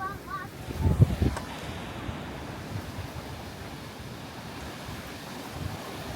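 Atlantic Ocean waves rolling onto a wild North Carolina beach, a continuous wash of surf mixed with buffeting wind noise, with a brief louder muffled burst near the start.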